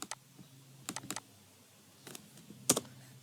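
Computer keyboard typing in scattered short bursts, light close clicks separated by pauses, quiet and with no talking.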